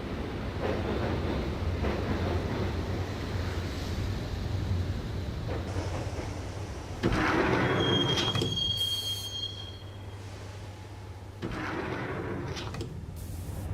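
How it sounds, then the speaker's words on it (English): A subway train in the Max Payne video game clatters along on steady rolling wheels, then a high metallic squeal rings out as it brakes, followed by a lower settling rumble. "the train doors had already shut behind me, and I was in for the ride"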